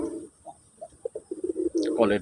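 Soft, low coos from a pair of pigeons repeat in short bursts, then a voice starts talking over them near the end.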